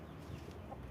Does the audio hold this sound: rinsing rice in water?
no